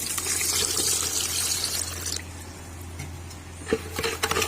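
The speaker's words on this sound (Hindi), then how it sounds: "अब पानी ऐड करेंगे" Water pours into a container of sugar for sherbet for about two seconds with a bright splashing rush, then stops, followed by a quieter trickle and a few clinks.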